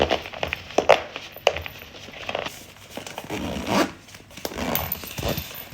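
A camera accessory bag from a DJI Osmo Pocket 3 Creator Combo is zipped shut: several short, rasping zipper pulls and fabric rustles come from close up, separated by brief pauses.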